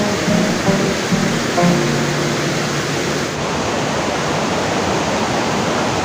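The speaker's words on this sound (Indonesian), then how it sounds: "Kita menyusuri sungai guys." A river flows through a valley at a campsite, a steady broadband rush of water running throughout with a few faint tonal sounds early on.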